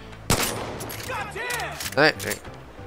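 Gunfire in the video game Far Cry 5: a sharp loud shot, then a spread of bursts and a booming blast near the end, with players talking over the action.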